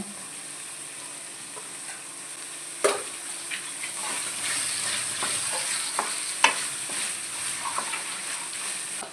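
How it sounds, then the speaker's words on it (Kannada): Chicken is stirred into a pan of salted vegetables for chicken fried rice, giving a steady sizzle broken by sharp clanks and scrapes of a spatula against the pan. "ಈಗ ಈ ಚಿಕನನ್ನು ಹಾಕ್ಕೊಳ್ತೇನೆ"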